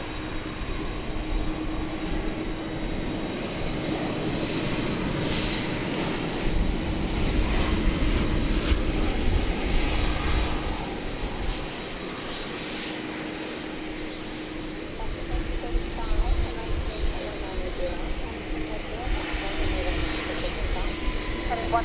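An American Airlines Boeing 737-800 arriving from Santa Ana rumbles at DFW Airport at night, a steady mid-distance jet roar with a low drone that swells and fades, with talking over it.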